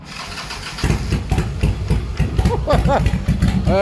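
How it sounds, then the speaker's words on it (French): A Harley-Davidson motorcycle engine fires up at a supercar show and settles into a rumbling idle with uneven revs, while people talk over it nearby. "Ça fait le bruit d'une belle Harley Davidson."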